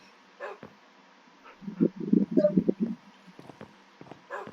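A small dog heard nearby, a cluster of short whimpers and yelps bunched in the middle, with a few soft voices before and after.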